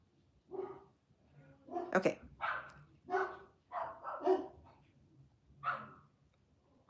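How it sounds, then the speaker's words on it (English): Dogs bark in a series of short, spaced yaps in a quiet indoor setting, moderately faint as if from another room, with a single brief spoken word among them. "if you can hear the dogs in the background"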